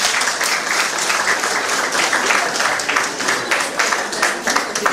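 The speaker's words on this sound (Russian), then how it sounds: "Ваши аплодисменты" A roomful of people applauding at an art exhibition opening, continuous close clapping with a busy, crackling texture that stays loud and even throughout, no one talking over it.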